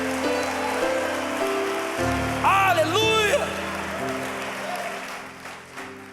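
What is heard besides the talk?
congregation applauding loudly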